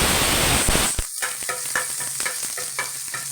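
Curry leaves, ginger and garlic hit hot oil in a pan with a loud burst of crackling sizzle that dies back into a steady fry, with a few stirring clinks close by.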